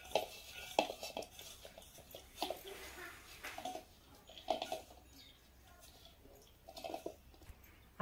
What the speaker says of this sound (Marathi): थोडी हळद पोह्यामध्ये मिक्स करून घेऊ।